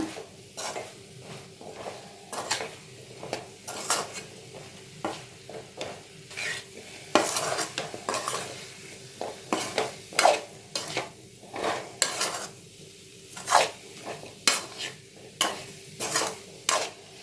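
Drumstick pieces being stirred with homemade kuzhambu chilli powder in a pan, giving repeated scraping and clinking of a spoon against metal over a soft sizzle, steady and close with no talking.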